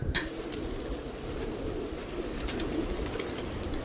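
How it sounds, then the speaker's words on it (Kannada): Pigeons cooing softly in a low, continuous murmur at an ashram where corn and wheat are scattered for them, with a steady background hum and faint rustling throughout. "ಎಷ್ಟು ಪಾರಿವಾಳ ಇದೆ ನೋಡಿ ಇಲ್ಲಿ"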